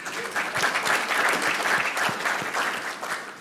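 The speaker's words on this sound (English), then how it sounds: "Give her a big applause." An audience at an agricultural industry forum claps steadily for a few seconds, a moderate, even round of applause from a room full of people.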